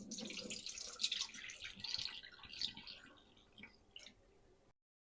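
Rice is rinsed by hand in a bowl of water, making close, steady splashing and swishing with small drips that ease off toward the end before the sound stops.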